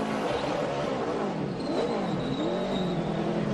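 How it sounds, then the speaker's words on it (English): A race car engine at the 2011 UNOH 225 revs repeatedly without moving after the jack drops, with only one wheel driving, rising and falling in pitch with a high whine above; the sound is loud and continuous, with crowd noise around it. "you hear the motor just revving up, but not going anywhere"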